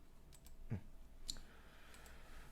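Mouse clicks on a computer, a couple of short faint clicks over quiet room tone.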